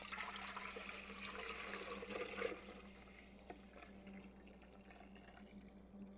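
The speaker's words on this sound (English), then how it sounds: "I'm going to pour the milk into this thermal cooker" Milk poured into a thermal cooker while making yogurt from powdered milk, a steady close liquid rush and splash that is strongest for about two and a half seconds, then fades to a softer trickle over a low hum.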